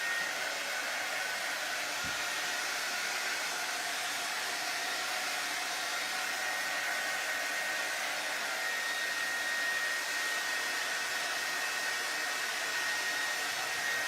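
A hair dryer blows steadily and close for the whole stretch, drying fresh paint on a wooden board for a faux farmhouse finish, a constant loud whoosh with no talking.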